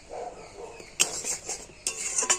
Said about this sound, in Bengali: এইভাবে নাড়াচাড়া করে দুধটাকে ফুটিয়ে তো ঘন করে নিতে হবে